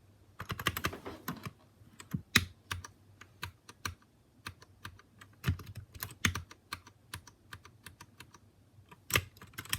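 Typing on a Royal Kludge RK61 keyboard: a steady stream of crisp, close keystrokes in uneven bursts, with occasional louder presses and no voices.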